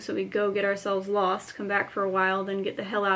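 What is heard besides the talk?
None of the usual background noises is heard.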